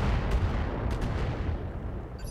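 In the video game Roguepoint, heavy weapons pound a turret in a loud, dense barrage of rumbling blasts and gunfire that carries on without a break, then thins slightly toward the end.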